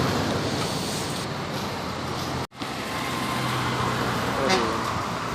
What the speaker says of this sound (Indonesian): Bus Bintang Utara ekonomi non AC ini teman-teman, Nopin 42 dengan bodi jet bus